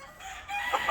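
A three-year-old broodcock rooster gives short clucks and a brief crow-like call near the end, fairly close, with no talking.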